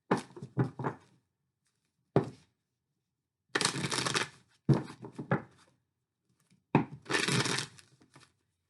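Tarot cards being shuffled up close, crisp papery riffles and flicks in several separate bursts with quiet pauses between them.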